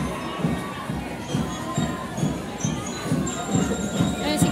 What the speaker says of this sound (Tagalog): Naririnig niyo ba yung hiyawan?